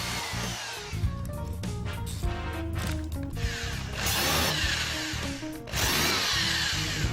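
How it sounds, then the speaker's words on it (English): A power drill whines and bites into wood in several close, loud bursts, its pitch rising and falling as it bores and countersinks holes in wooden bookshelf frame pieces. "Once we've cut the frame material, we drill and countersink ready for assembly."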